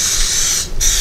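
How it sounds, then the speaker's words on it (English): Coconut oil cooking spray coating a ramekin, a loud close aerosol hiss in two bursts split by a brief pause. "coat the ramekin with the coconut spray"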